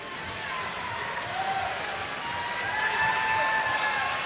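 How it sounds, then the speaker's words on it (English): New Covenant home crowd cheering after winning a PIAA District 3 1A girls basketball final, a steady wash of applause and roaring voices that swells slightly toward the end, heard at a distance under a broadcast. "the New Covenant crowd is fired up"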